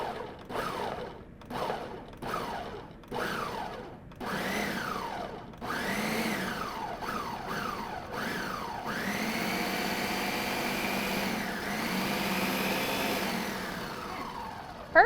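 A kitchen blender chops vegetables in short revving pulses whose pitch climbs and falls. The pulses then run together into a longer, steadier whir, loud and close, with no talking.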